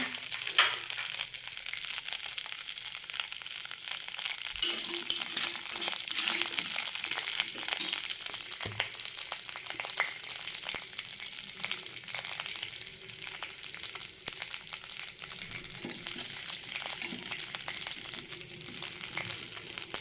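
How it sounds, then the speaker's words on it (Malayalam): Curry leaves drop into hot oil in a pan and set off a loud, steady sizzle and crackle of frying close by, with no voices. "ഇനി കുറച്ച് കറിവേപ്പിലയുണ്ട് അതിട്ട് കൊടുക്കാം"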